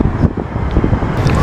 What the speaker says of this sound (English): There's still cars going back and forth.